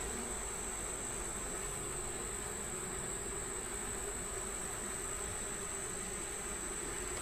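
Honey bees hum around an open hive, a steady, soft insect drone that holds evenly throughout with no talking.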